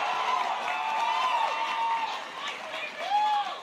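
A Sonic the Hedgehog animation panel audience at Anime Expo cheers and shouts loudly and continuously, with a crowd roar and a few whoops rising near the end.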